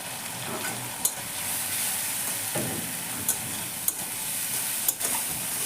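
Spice masala with turmeric is fried in a pan, giving a continuous close sizzle with a few sharp spoon taps and stirring scrapes, no voices.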